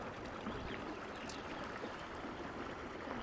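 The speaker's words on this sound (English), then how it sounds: "enjoying the creek in front of me, just listening to it flow by" Creek flowing past a campsite in an aspen grove, a faint, steady wash of moving water with soft trickling, calm and continuous with no voices.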